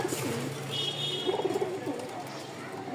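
White pigeon pair cooing close by, a few soft throaty coos under someone speaking and light background noise.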